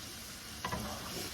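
A pound of bacon fries on a griddle sprayed with olive oil, a faint steady sizzle with a brief scrape of stirring partway through.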